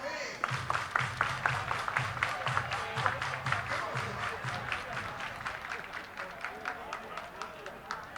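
A crowd at a minor-league baseball game between Buffalo and Indianapolis claps in a steady rhythmic beat, distant and moderately quiet, while a play-by-play announcer talks over it.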